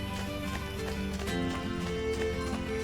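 Horse hooves clip-clop in a steady running rhythm in the video game Assassin's Creed Brotherhood, continuous and fairly close over a game soundtrack.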